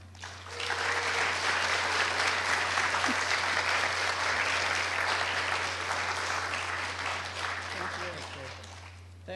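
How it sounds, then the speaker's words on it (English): Sustained applause at the SEmmy Awards 2013 ceremony, a dense, even wash of many hands clapping at once for several seconds before easing off slightly, with faint voices mixed in and a steady low hum underneath. "Another round of applause, please, for Regina McCombs."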